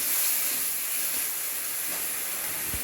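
Masala of turmeric, cumin and chili powder with ginger-garlic paste frying in a pan gives a steady, even hiss that holds without a break from start to finish, with no voices over it.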